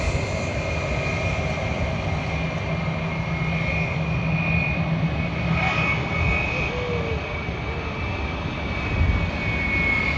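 Qantas Boeing 787-9 Dreamliner jet at Sydney Airport, a steady broad engine roar holding at even loudness throughout, with voices talking faintly underneath.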